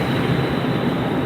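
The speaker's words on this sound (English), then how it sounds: "Get a view of the train departing here." A transit train pulls out of a station with a steady, loud rumbling roar of wheels and motors, close by and continuous, with no voices.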